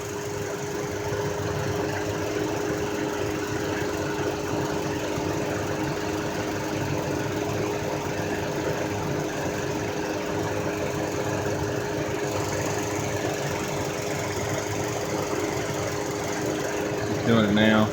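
A 2016 Jeep Renegade with a hesitation fault idles steadily, its engine drone holding even and close for the whole stretch with no clear break.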